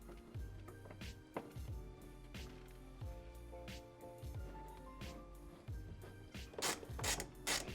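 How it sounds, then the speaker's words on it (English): Bolts being tightened on a window regulator inside the door of a 2007 Mazda 3, a close, quiet run of rapid ratchet clicks in repeated bursts with small metallic knocks. "Now go ahead and put the bolts in,"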